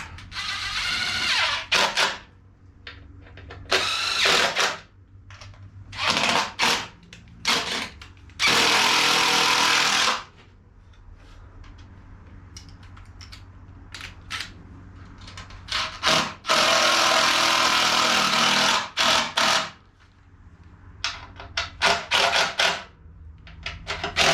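Power drill driving bolts into an aftermarket skid plate on a Yamaha YFZ 450R sport quad, in several loud bursts of whirring and ratcheting separated by quieter handling and rubbing noises.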